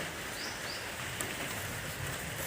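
Rain falls steadily as a soft, continuous hiss outdoors, faint and even throughout with no voices.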